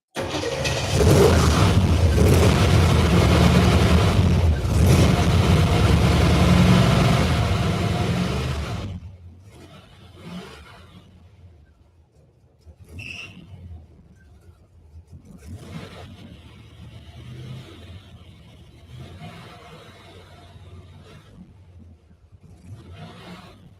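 A limo engine runs loudly for several seconds, then drops to a quieter, uneven rough idle with faint background noise.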